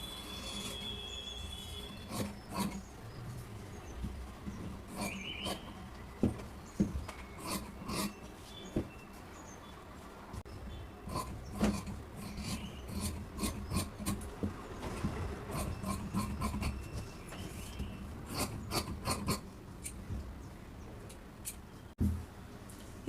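Scissors cutting through blouse fabric during sewing work, producing quiet, close snipping and rasping strokes in irregular bursts, some quick clusters of cuts, with soft rustling of cloth between them and no talk.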